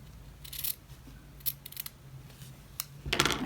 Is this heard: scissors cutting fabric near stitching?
yes